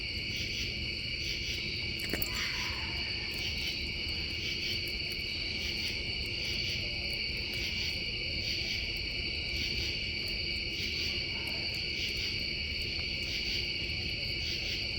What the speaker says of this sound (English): I'm not sure if all the insect and frog sounds come through here